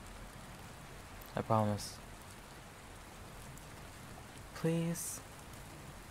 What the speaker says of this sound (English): It's raining, and I'm soaked